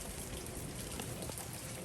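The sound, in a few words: rain dropping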